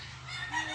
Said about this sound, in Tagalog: Mag-isa lang to lalaking Gansa nag-swimming sa planggana